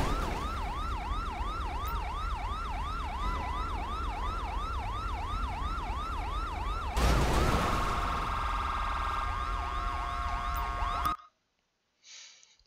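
Ambulance siren in the GTA V video game, a loud wailing sweep repeating steadily for about eleven seconds, briefly overlapped by a harsh burst partway through, then cutting off abruptly into near silence.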